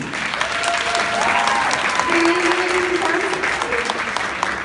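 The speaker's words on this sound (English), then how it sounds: "Can we please have a round of applause please for Taylor?" Sustained audience applause at an evening beauty event, a dense, even wash of clapping close and loud throughout, with a few faint voices and tones riding over it.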